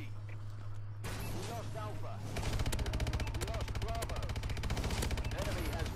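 Dense, sustained automatic gunfire in Call of Duty: Advanced Warfare on the Detroit map, with rapid bursts intensifying after a brief lead-in and a constant hum underneath, with a voice audible.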